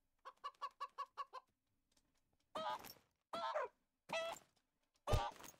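Minecraft chicken from the FTB Revelation modpack clucks in a quick run of six or seven short, evenly spaced notes, then after a pause gives several longer, louder squawks, close and clear against near silence.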